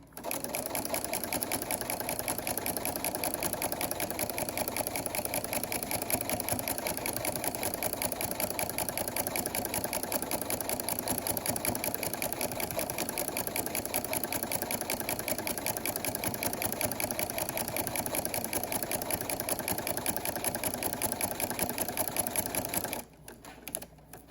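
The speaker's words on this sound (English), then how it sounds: "You're just gonna stitch a straight line, keeping that seam in the middle of your presser foot" A sewing machine runs steadily for over twenty seconds, stitching a straight line on a quilted pot holder with a rapid, even mechanical chatter, close and alone, stopping abruptly near the end.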